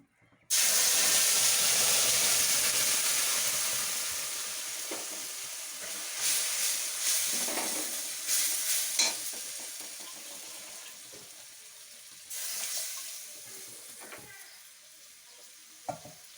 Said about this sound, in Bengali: দিয়ে আমি এটা এখন তেলের মধ্যে দিয়ে দিচ্ছি